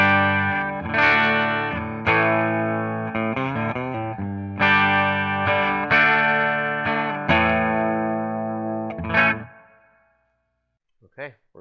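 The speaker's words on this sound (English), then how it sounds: "So let's hear my clean tone" An electric guitar plays in a clean tone through split-coil single-coil pickups, with strummed chords ringing close and loud before fading out, followed by a brief click.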